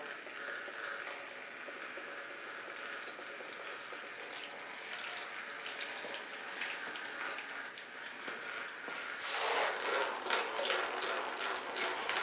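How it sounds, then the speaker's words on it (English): Coolant drains from a 1962 Studebaker 289 V8 engine during disassembly, a soft steady trickle of liquid that grows into a louder splashing stream near the end, heard without talk. "I watch the coolant's going to start to come out"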